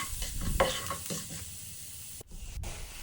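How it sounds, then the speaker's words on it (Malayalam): Cumin seeds sizzling in a spoonful of hot ghee in a pan make a crackling, spitting hiss up close, with a few stirring scrapes and a brief cut near the end. "ഇനി ഒരു പാൻ വെച്ച് ചൂടായതിന് ശേഷം ഒരു സ്പൂൺ നെയ്യ് ഒഴിച്ചു കൊടുക്കുക ഒരു സ്പൂൺ ചെറിയ ജീരകം ഇട്ട് കൊടുക്കുക"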